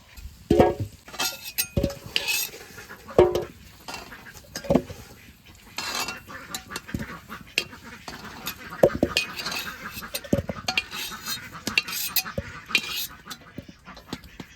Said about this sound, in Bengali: এবার আমি আলুটা তুলে নেব।